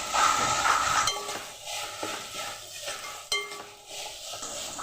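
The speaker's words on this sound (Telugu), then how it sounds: "అలాగే బాగా వేగిన టమాటాలో 1 స్పూన్ అల్లం వెల్లుల్లి పేస్ట్ వేసి అడుగు పట్టకుండా బాగా వేయించుకోవాలి." Tomatoes with ginger garlic paste frying in a pan for a ridge gourd mushroom curry, a close sizzle broken by repeated scraping strokes and light clinks of a spoon against the pan.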